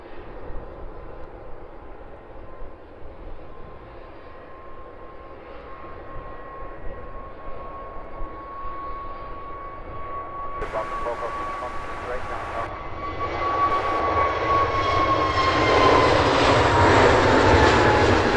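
An EasyJet jet airliner taking off at London Luton Airport, its engine roar building from a distant whine to a loud, sustained rumble, with a person talking over it early on.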